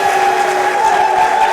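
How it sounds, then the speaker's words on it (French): A crowd at a televised interview event with a prime minister applauds in a dense, even wash of clapping, with a steady tone running underneath throughout. "Est-ce qu'on peut encore applaudir, s'il vous plaît ?"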